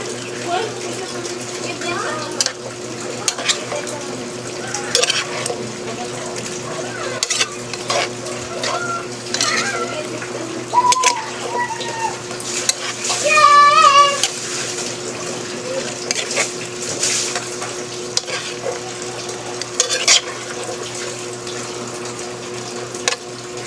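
Eggplant frying in oil in a pan while being stirred for spicy sautéed eggplant. A steady sizzle runs under intermittent stirring scrapes and clinks, with a soft voice speaking now and then.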